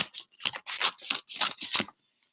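Scissors snip through a strip of filter paper in a quick series of about six close, crisp cuts, then stop.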